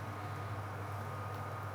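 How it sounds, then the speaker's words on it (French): A loud, steady low hum of an oven fan drones continuously with a broadband whooshing hiss on top while homemade cordons bleus cook, no talking. "là, vous entendez beaucoup trop le four"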